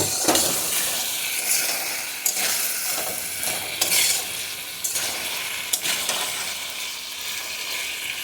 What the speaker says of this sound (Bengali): পাঁচ মিনিটের মতো কষিয়ে তারপর জল দিয়ে দেব।